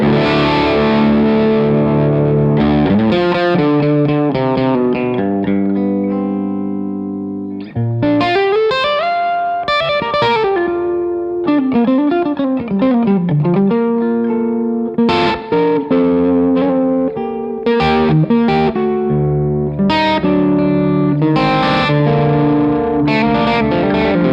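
A loud electric guitar with overdrive plays a continuous run of chords and single-note riffs, held notes ringing between phrases, with no talking.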